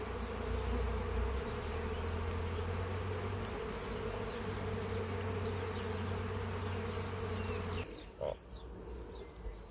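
Honeybees hum densely and continuously at a hive, a steady close buzz that drops off abruptly near the end.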